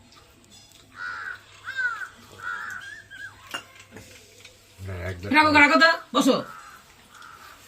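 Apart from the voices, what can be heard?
crow cawing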